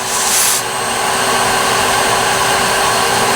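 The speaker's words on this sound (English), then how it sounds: "he's going to use a regular shop vac to show you that all you need is a shop vac" A regular shop vac blows out a pool slide line during pool closing, giving a loud, steady whooshing roar with a constant high whine throughout, slightly stronger in the first half second.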